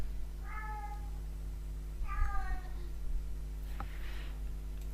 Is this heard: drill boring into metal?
no